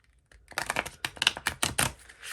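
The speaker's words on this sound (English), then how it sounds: "These are a little fun to shuffle since they're circles, but I'm having fun mixing it up." Round Wild Unknown Archetypes tarot cards are shuffled by hand in a quiet room, giving a quick, close run of crisp clicks and riffles that starts after a brief pause.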